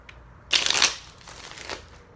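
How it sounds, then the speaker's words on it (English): A deck of tarot cards is shuffled in one brisk riffling burst lasting about half a second, then a few softer card rustles and slides follow, close up and with no talking. "I'm gonna pull from the tarot of sex magic to see a sexual"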